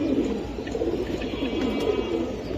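A Giribaj pigeon coos softly in a short, low repeated murmur, close by with faint background noise.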